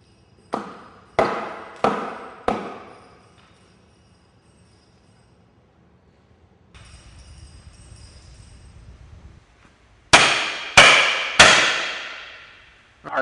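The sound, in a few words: hammer tapping in cribbing wedges under vehicle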